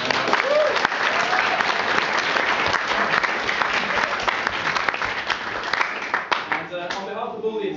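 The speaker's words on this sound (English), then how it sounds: "So I just want to give you a quick round of applause to you." Wedding guests break into loud, sustained applause with dense clapping throughout, some cheering voices mixed in, and the clapping thins out near the end.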